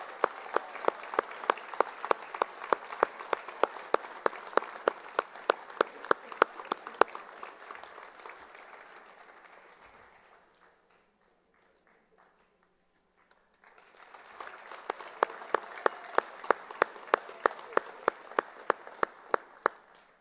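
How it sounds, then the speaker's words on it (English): Audience applause fills a school hall of honor ceremony, loud and steady with sharp individual claps, fading to near silence midway before a second burst of clapping swells back up. "Please give a round of applause for Mr."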